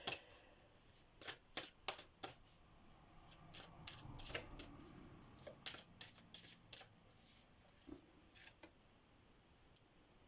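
Tarot cards are shuffled for a reading in a quiet room, giving a close, soft series of crisp riffling snaps and sliding clicks at an uneven pace.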